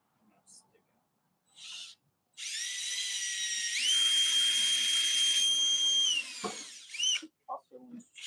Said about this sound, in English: make sure you're drilling straight down so the screws go into the other wood and don't stick out the side.